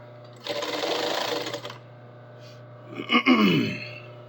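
A sewing machine runs a steady burst of stitching along a long seam, lapping over earlier stitches, for about a second and a half, then stops; a brief handling clatter and a low sweeping noise follow, over a constant low hum.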